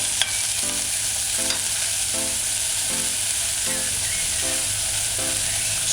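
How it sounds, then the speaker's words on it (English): Chopped scallion sautés in a pan for a cabbage stew on a stove set low, giving a steady bright sizzle. Regular scraping strokes of stirring repeat about every 0.7 seconds over it. "add your chopped scallion. Stir it in. Allow it to saute."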